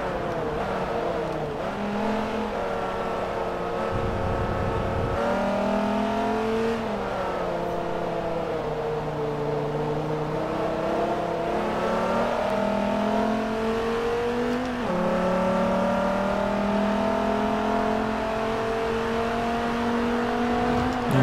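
Dodge Viper race car engines in Forza Motorsport 3 rev loudly and continuously, rising and falling in pitch through gear changes, with no talk over them.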